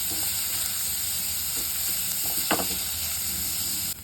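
Sweet corn frying in a pan for a chana salad, a steady close sizzle and hiss with a single sharp clink or stir partway through.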